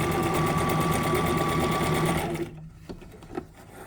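Brother XM2701 sewing machine running a decorative stitch, a loud rapid mechanical whirr at close range for about two and a half seconds, then stopping and leaving faint clicks and handling sounds.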